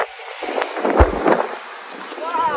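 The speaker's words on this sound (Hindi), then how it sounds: "बहुत ज़्यादा तूफान आ रहा है" Strong storm wind roars and gusts steadily, with a heavier rumbling burst partway through.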